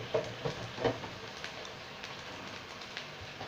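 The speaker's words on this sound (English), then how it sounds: "Chips are frying away." Skin-on chips frying in oil give off a continuous soft sizzling crackle, with a few louder pops near the start, heard steadily with no talking.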